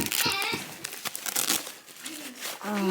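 Plastic crinkles and rustles up close as a bag is handled, with a child and an adult talking over the crackling.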